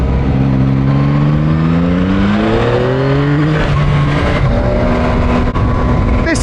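A 2024 Yamaha MT-09 or XSR900 GP motorcycle engine pulls hard through rising revs with a gear change, its loud, close exhaust note climbing steadily before settling into another pull.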